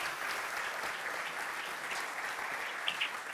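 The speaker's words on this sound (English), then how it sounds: "probably a round of applause" An audience at the first Helvetic Ruby conference gives a round of applause, even massed clapping heard somewhat distant and moderately quiet, holding steady throughout.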